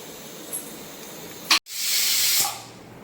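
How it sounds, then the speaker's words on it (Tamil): A pressure cooker on a stove, cooking chicken biryani with basmati rice, lets out a loud steady hiss of escaping steam for about a second, after a short sharp burst and a brief gap. "செகண்ட் விசில் அவ்வளோதான் அடுப்பு ஆஃப் பண்ண போகிறோம்"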